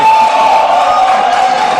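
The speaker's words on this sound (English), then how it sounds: "please stop the jeering and the clapping" A debate audience jeers and cheers in a loud, continuous crowd roar with whooping voices rising over it, dense and close throughout.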